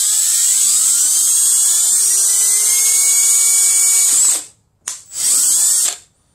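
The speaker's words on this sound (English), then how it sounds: "we're going to start by taking our drill and our water bottle, and we're going to drill right off to the side" An electric drill whines loudly and steadily as it bores into a plastic water bottle, pitch rising slightly, then stops abruptly with two short follow-up bursts.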